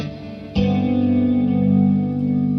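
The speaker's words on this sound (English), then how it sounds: "I use a quick clean and just turn on the chorus and put some reverb and" Clean electric guitar tone with chorus, reverb and delay effects, a sustained ringing chord struck once with a sharp attack and then holding steadily with shimmering tails throughout.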